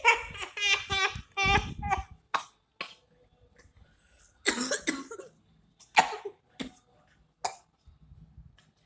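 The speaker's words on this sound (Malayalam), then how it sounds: "കരച്ചിൽ നിന്ന് ചുമയിലോട്ട് ട്രാൻസിഷൻ" A player coughs during an online video game session, with several close, harsh coughing bursts and laugh-like sounds early on, followed by quieter scattered coughs and pauses.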